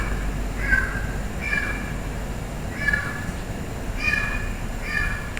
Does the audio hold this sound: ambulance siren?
no